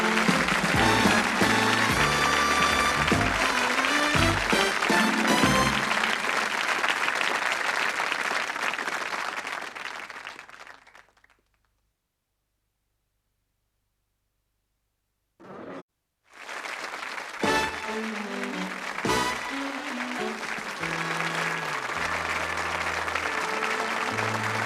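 A studio audience at the 1986 British game show 3-2-1 claps loudly and steadily for about ten seconds. The applause then cuts to silence, and other programme sound returns afterwards.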